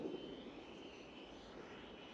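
An FMS Futura 64mm electric ducted fan model jet approaches to land, giving a faint, steady whooshing whine heard from a distance.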